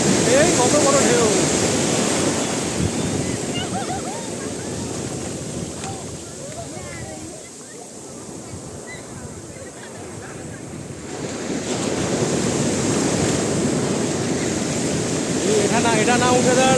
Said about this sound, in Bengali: এই কত বড় ঢেউ।